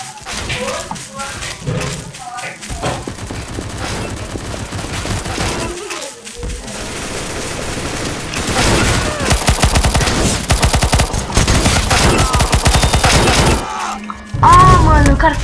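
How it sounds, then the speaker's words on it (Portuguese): Rapid bursts of suppressed M4A1 rifle fire in the Roblox game Arsenal, dense volleys of muffled shots growing heavier toward the end, loud and close. "É meio que uma M4A1 com silenciador que dá muita potência pra arma"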